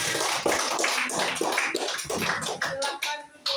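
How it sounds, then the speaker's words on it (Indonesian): Junior high school students in a classroom applaud a group presentation with a burst of dense, uneven clapping that carries on for several seconds, close and lively. "Oke, beri tepuk tangan."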